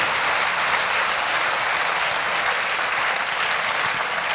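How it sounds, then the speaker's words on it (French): Steady, full audience applause at a health conference session on stroke, a dense unbroken wash of clapping that holds at the same loud level throughout. "On peut vous applaudir, un grand bravo."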